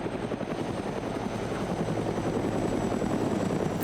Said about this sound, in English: you hear that 50 cal Humvee firing again at the helicopter